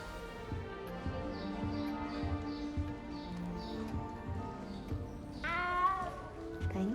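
A cat in Hogwarts Legacy lets out one clear, rising meow late on, over soft game ambience with rhythmic hoof-like clopping throughout.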